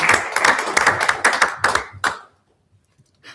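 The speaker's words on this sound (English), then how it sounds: "another round of applause" A round of applause breaks out in a city council chamber, several people clapping briskly for about two seconds before it fades out, with a faint voice following.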